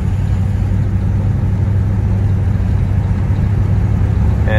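Car with a fluid drive transmission accelerating in high range: a steady, low engine rumble held at a fairly even level throughout, close to the microphone and without any voices.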